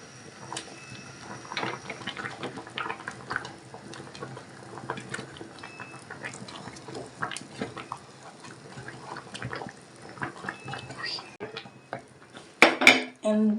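Okra soup with ugu leaf being stirred in a pot, irregular clinks and scrapes of a utensil against the pot with light wet patter, close and fairly quiet, ending in a few sharper knocks.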